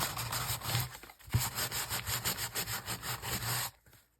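Rhythmic, steady scraping of worn sandpaper rubbing back and forth on paper, close by, with a brief pause partway through and a faint stroke at the end.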